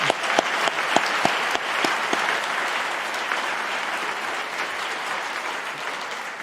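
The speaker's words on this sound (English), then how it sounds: "a round of applause to you guys" A crowd at a law school convocation claps steadily throughout, with a few sharp individual claps standing out at the start before settling into a dense, even applause.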